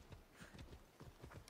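Horse hooves clip-clopping in the video game Assassin's Creed Odyssey, a quiet rapid series of rhythmic thuds like a gallop, faint and continuous with no talk over it.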